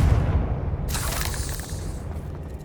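Confringo fire spell exploding in the Hogwarts Legacy video game: a loud fiery burst erupting over low background rumble, then a hissing, crackling tail that slowly fades.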